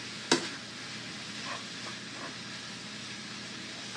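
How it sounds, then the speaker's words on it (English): Ground beef sizzles in a pan with a steady, close hiss of frying, a sharp clink of utensil against the pan near the start and faint stirring scrapes, no one talking. "So while my ground beef is still cooking"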